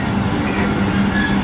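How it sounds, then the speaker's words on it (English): Loud, steady rumble of a train rolling past close by, with rail noise and faint wheel tones throughout. "Trains."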